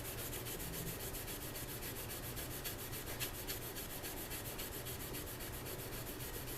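A leather knife is sharpened on both sides with fast, rhythmic rasping strokes, close and steady, repeating evenly throughout with no voices.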